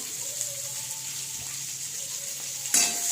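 Potatoes sautéing in a pan give a steady soft sizzle, close and fairly faint, with a brief louder scrape of stirring near the end.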